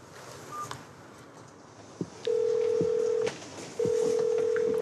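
A telephone call is placed on a handset: a few soft clicks and taps lead into two long, steady ringing tones about a second each, separated by a brief pause, heard close and clear.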